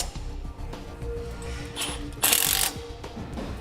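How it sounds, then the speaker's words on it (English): A ratchet wrench tightens wheel hub nuts in a star pattern, with rapid clicking pawl strokes in quick succession, close and clear, and a sharper metallic burst partway through. "Now we'll tighten these down, and we'll tighten these like we tighten lug nuts on a wheel in an alternating star"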